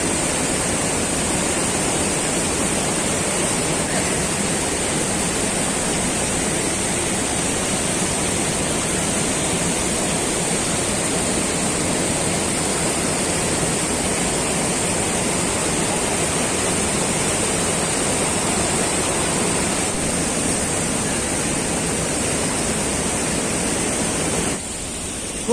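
Usri Falls in Giridih, India roars in a steady, dense rush of falling water, loud and unbroken throughout.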